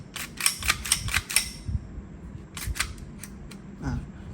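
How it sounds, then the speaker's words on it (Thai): Glock-style BB pistol giving a rapid burst of five sharp cracks, then scattered single metallic clacks of the slide cycling, close and crisp with a quiet gap between. "สไลด์เขาเนี่ยเสียงจะเพาะมากเลยนะครับ"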